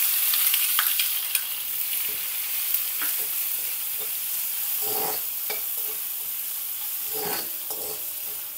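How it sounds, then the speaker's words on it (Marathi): Chopped onion sautéing in hot oil with cumin and mustard seeds and a pinch of asafoetida, a steady close sizzle broken by occasional scraping stirs and soft pops, with no talk. "आपण आता कांदा चांगला परतून घेऊ"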